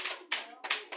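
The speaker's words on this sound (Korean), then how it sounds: "박수" Hands clapping at a children's summer Bible camp, a few quick sharp bursts of claps in one second, close and fairly loud.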